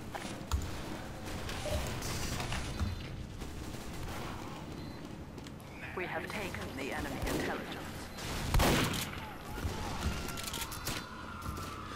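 Rapid overlapping gunfire from a Team Fortress 2 match on the 2Fort map, a steady barrage of shots with a louder burst near the end, over busy game sounds.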